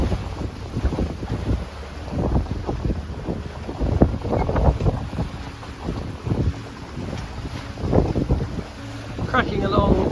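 A sailboat moves briskly under wind in the North Channel toward Lymington, with a steady rush of wind buffeting the microphone and water churning past the hull, continuous and close.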